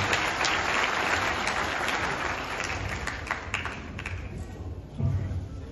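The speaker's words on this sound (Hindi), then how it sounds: "जोरदार तालियों से स्वागत कीजिएगा" At a calendar launch ceremony with an education minister, an audience greets a director with loud applause, dense clapping that thins out toward the end while voices murmur beneath.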